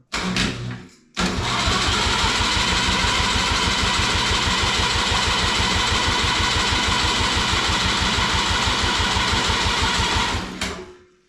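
A turbocharged snowblower engine cranks briefly, then catches and runs at a steady, rapidly pulsing idle for about nine seconds before shutting off. The engine is loud and close, with no talking.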